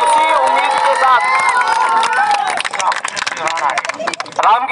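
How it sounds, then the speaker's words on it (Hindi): A crowd claps and cheers at a village panchayat election rally in Rajasthan, loud and dense, with voices and shouts mixed into the ongoing applause. "तालियां जोर से।"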